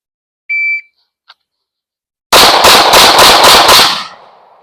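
Rapid string of about six pistol shots from a Glock 43X MOS or Shadow Systems CR920X concealed carry handgun fired at 5 yards, loud and close, preceded by brief electronic beeps, with the last report ringing out.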